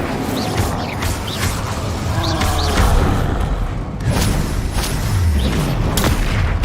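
Confringo and Incendio spell blasts in the video game Hogwarts Legacy, dense booming impacts and crackling bursts in a busy, loud battle mix, with whooshing effects layered throughout.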